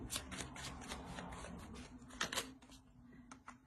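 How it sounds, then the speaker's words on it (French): Tarot cards being shuffled and handled while a card is added to a spread, a steady close flurry of papery flicks and slides with a few sharper snaps near the end, and no talking. "Je vais rajouter une carte."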